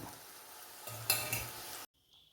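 Sliced brinjal and carrot frying in hot oil, a steady sizzle with a scrape of stirring that cuts off abruptly near the end, leaving quiet.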